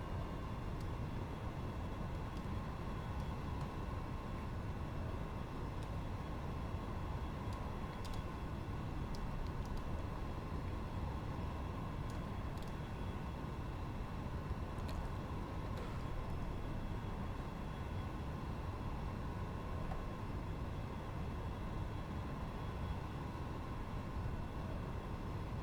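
Default X-Plane 11 aircraft sound: a steady low engine drone and broadband rumble holding unchanged, faint and continuous with occasional light ticks, no voices.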